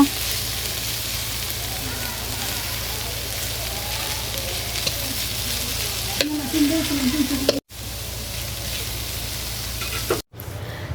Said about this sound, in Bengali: পাট শাক ভাজি করে নামার হয়ে গেছে, এখন নামিয়ে নেব।